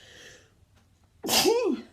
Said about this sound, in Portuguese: tô com vontade de espirrar